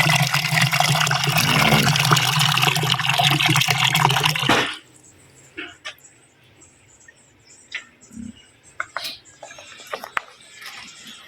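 Loud, forceful water gushes from a tap at a campsite in Baguio for several seconds, then cuts off abruptly, leaving scattered small drips and clicks.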